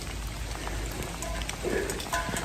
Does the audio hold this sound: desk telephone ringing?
no